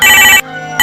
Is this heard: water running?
no